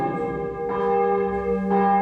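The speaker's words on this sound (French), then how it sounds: "on ne peut pas faire de la concurrence aux cloches" Church bells ring steadily and loudly in a sustained, overlapping peal, with strong swells after the midpoint and near the end, and no talking over them.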